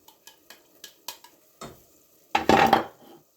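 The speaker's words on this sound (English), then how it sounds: "I'm going to start adding my shrimp in here" Tiny shrimp for stuffed jumbo shells tumble into a pan. A string of light clinks and taps comes first, then two louder scraping, sizzling bursts as they hit and get moved around, close up and with no talking.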